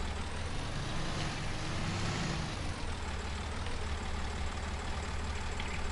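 A tractor engine idles steadily in Farming Simulator 19, a continuous low rumble with a constant hum that holds evenly throughout with no talk over it.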